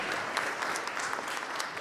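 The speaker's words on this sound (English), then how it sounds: "Another round of applause for Dr." Audience applause at a young adult life workshop, a steady dense patter of many hands clapping, fairly loud and close, running throughout without pause.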